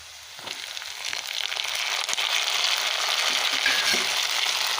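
Tomatoes hitting hot oil for a green sundakkai kuzhambu, a broad sizzling hiss that swells and holds steady and loud, close by with no talking.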